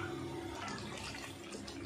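Steady bubbling and simmering of potato gravy in a pot, a soft continuous wet churn with no voices.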